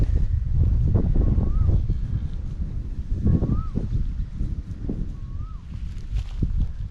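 Steady wind rumbles and buffets across open rice fields during a dry-season rainstorm, with low gusty roar throughout and faint distant sounds drifting over it.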